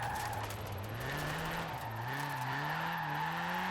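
Low-horsepower car drifting sideways in the Forza racing video game, a steady engine drone rising and falling in pitch as the tires squeal continuously through the slide, loud and close throughout.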